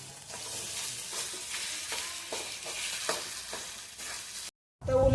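Mutton rakti, a village-style dish, fries in a pan while a turner stirs and breaks it up, making a steady close sizzle with repeated scraping strokes, and then a brief silence before a louder burst at the end.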